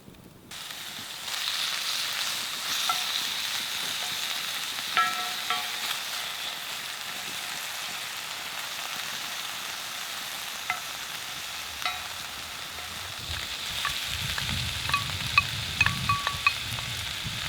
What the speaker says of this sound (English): So we're going to add 6 rashers of bacon cut finely to a hot skillet.